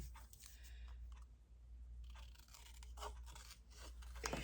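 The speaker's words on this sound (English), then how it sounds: "I could let this, I could cut this tag" Scissors cut through a paper tag, making a few quiet, crisp snips and rustles spread across a hushed room.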